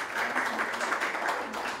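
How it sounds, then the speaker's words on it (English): An audience applauds at a PhD symposium on socially inclusive and equitable education, producing a brief, steady burst of clapping from a crowd at moderate volume. "Please give a very big round of applause to her"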